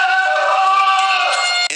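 A sustained high scream sound effect from Back to the Future Part III, loud and close, holding a strained tone for nearly two seconds before cutting off abruptly.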